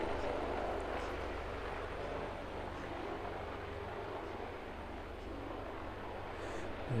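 A passenger aircraft touches down on runway 09 at East Midlands Airport, its engine roar a steady, fairly distant broadband rumble throughout.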